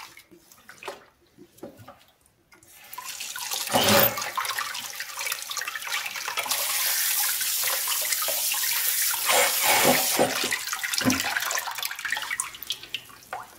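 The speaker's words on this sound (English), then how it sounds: "we will give it one more rinse under the water" Water gushes from a tap in bursts, splashing and hissing as a telescope mirror is rinsed, with brief pauses and handling noises between the flows.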